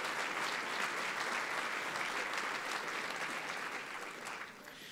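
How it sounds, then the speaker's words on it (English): A dinner audience at an annual trade awards event gives Sam a round of applause: sustained, even clapping from a large crowd, fairly soft and distant, easing slightly toward the end. "Please give Sam a round of applause"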